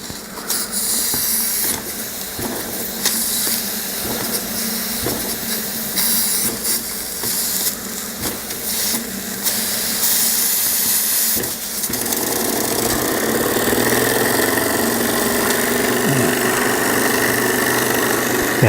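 A Weeden 661 model steam engine runs with a steady hiss and a busy mechanical chug that continues without a break, growing slightly louder and harsher toward the end.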